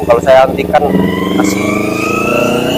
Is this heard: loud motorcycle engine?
yes